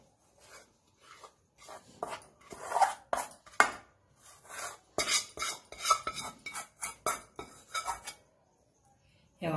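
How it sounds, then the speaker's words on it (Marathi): A spoon scraping and knocking around a pan as a thick rava besan barfi mixture is stirred, irregular close strokes and clinks with short pauses, no voices. "मिश्रण चांगलं हलवायचं"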